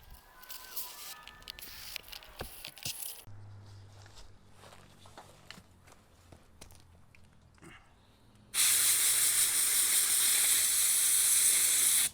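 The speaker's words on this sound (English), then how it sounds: "So you're going to give it all a bit of a blow and get the moisture out of it with compressed air." A compressed-air nozzle blasts moisture out of washed rear axle parts on an 80 series Land Cruiser, a loud, close, steady hiss starting abruptly partway through after quieter shop clatter and footsteps.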